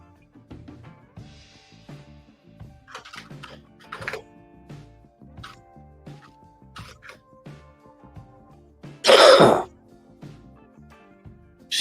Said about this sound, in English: I missed my mute button before I coughed.